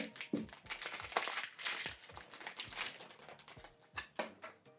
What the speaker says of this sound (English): Remove this plastic.